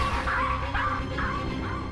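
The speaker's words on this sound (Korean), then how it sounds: "개 창단도 아니고 늘 함께 짖는 두 녀석 때문에 문제가 더 심각한 상황" Two dogs bark together indoors in repeated loud, yappy bursts, overlapping closely at near range.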